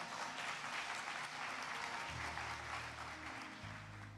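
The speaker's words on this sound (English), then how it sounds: "Clap it up for yourselves, church." A graduation ceremony audience in a church applauds loudly and steadily, a dense wash of clapping from a large crowd that continues throughout, with low background murmur underneath.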